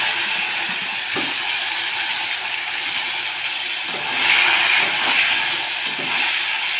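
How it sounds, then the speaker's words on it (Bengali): Eggs and potatoes fry in hot oil in a wok with a steady hissing sizzle and occasional soft bumps and spatters, growing briefly louder midway, with no voices. "তো ডিম আর আলুগুলো এখন আমি লাল লাল করে চলুন ভেজে নিই।"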